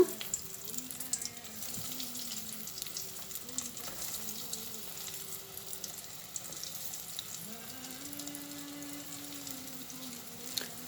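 Potato and cheese balls frying in vegetable fat, a steady close crackle and bubbling sizzle that holds evenly throughout, with faint background hum and no speech.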